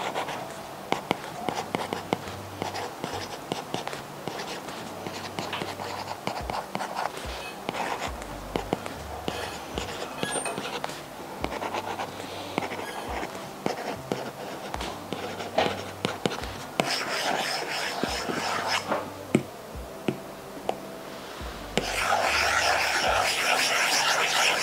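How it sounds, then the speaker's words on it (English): Apple Pencil tips scratching across a paper-like iPad screen protector, a long run of dry, papery writing strokes at close range with steady rhythmic scribbles throughout. "what it sounds like when you're writing with these on a paper-like screen protector"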